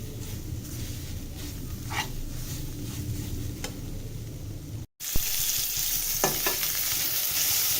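Leafy greens frying in hot oil in a pan, a continuous crackling sizzle with a few stirring clinks, briefly cut off and then resuming louder and brighter.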